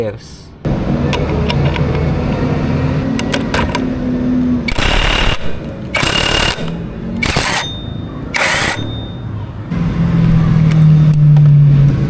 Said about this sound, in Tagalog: Gagamit tayo ng 22mm na socket wrench.